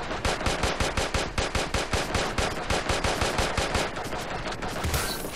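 Rapid, loud automatic gunfire in the video game Creative Destruction, a steady burst of evenly spaced shots that runs for several seconds.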